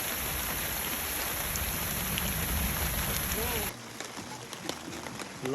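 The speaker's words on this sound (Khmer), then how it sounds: "ឥឡូវឃើញអត់ភ្លៀងមែន" Steady heavy rain falling in a forest during a mountain camping trip, a dense close hiss that suddenly drops to a lighter patter with scattered drips near the end.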